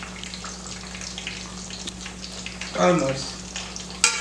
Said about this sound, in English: she's just turning it while it's cooking in the oil